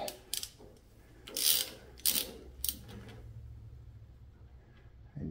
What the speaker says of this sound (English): Now I'll just take a Allen wrench and run that adjuster in, which it will push on the gears.